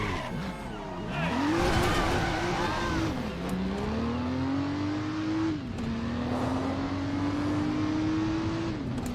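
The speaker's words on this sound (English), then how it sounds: "I was talking earlier about the engine sounds in this game." In the driving game Driver San Francisco, a car's engine revs and shifts gears, its tone climbing steadily with brief drops between gears, while tires squeal early on under continuous road noise.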